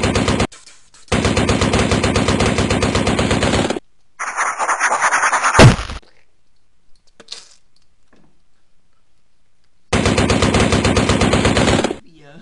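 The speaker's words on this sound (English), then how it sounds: "I'll shoot them with my gun." Bursts of rapid, loud machine-gun fire in a comedy sketch, two long sustained volleys separated by a short clattering burst and near silence.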